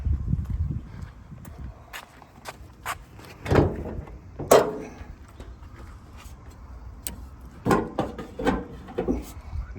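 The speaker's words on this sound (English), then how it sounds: "So the first things we're gonna do is just go ahead and open the hood so we can change out the air filter." Clunks, clicks and rattles of a 2014-2018 Toyota RAV4 hood being opened for an air filter change, several sharp knocks and latch sounds spread over the span, near and moderately loud.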